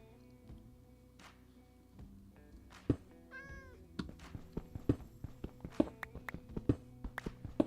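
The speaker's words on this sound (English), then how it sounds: "I hear a cat." A cat meows once in the middle of a quiet Minecraft session, a short rising cry from around three and a half seconds. Scattered footstep-like taps and thunks grow busier toward the end.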